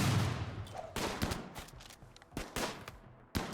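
Rapid bursts of gunfire from a Rimworld firefight, with several sharp shots and short volleys cracking out in uneven succession, loud and close, with no talk over them.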